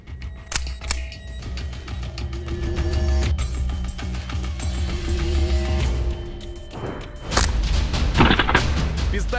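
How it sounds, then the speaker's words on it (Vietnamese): An XDM air pistol firing plastic BB pellets in open-class air pistol shooting, a series of sharp, close pops and thumps in irregular succession, with mechanical clicks between shots. "khẩu súng ngắn đã được dùng cho nội dung thi đấu mở, hạng mục bắn súng ngắn hơi."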